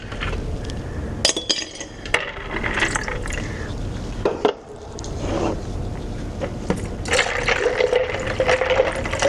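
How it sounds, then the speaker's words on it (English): Ice cubes clink and rattle against a container as water pours in, with sloshing and a gurgling stream, close and busy. "I'm going to fill this up the rest of the way with ice water."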